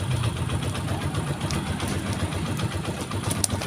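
A motorcycle engine idles steadily right after being started without a key through a keyless switch, a close, continuous low rumble that holds an even level throughout with no talking.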